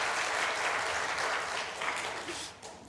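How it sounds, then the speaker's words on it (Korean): A church congregation applauds in encouragement after a Sunday worship choir performance, steady broadband clapping from a crowd that holds loud and then gradually tapers off, with no talk. "우리 한번 격려의 박수 한번 할까요?"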